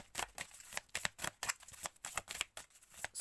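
Tarot cards shuffled close up in quick, uneven riffling bursts, a soft rapid papery flutter with no voices.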